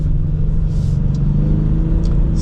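A Ford Mustang EcoBoost with the High Performance Package, in normal mode, pulls away with a steady low engine drone that builds gently, loud and close, with faint higher whooshes over it.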